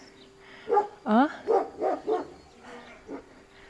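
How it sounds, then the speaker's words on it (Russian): A dog barks outdoors in a rural village, five or six quick barks in a short burst followed by one softer bark, moderately close. "видите, собака лает"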